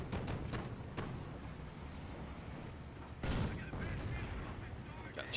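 Battle din from Company of Heroes as a German Stuka artillery unit fires away, with dull booms and crackling gunfire layered under a dense combat background, one heavier blast standing out partway through.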